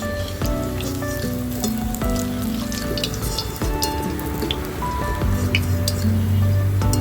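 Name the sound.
semolina and potato tikkis frying in a pan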